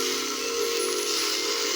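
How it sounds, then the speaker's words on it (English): Beef sears in a smoking-hot skillet, giving a steady, continuous sizzling hiss at close range with no talking. "You see the skillet is really smoking. It's sizzling on the side."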